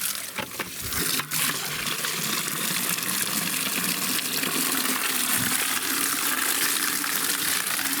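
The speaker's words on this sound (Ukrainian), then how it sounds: "Зараз наберемо по новій води" Water gushes steadily into a barrel in a vineyard, a loud, continuous rushing pour close by, with a brief splashing onset and no speech over it.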